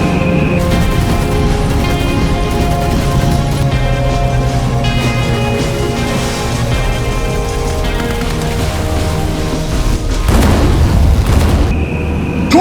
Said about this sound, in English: Launch the torpedo!